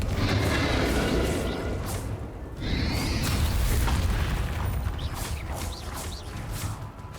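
Booming spell blasts in the Hogwarts Legacy video game, Bombarda and Confringo, bursting one after another in a loud, dense stream of crackling impacts over steady rumbling noise.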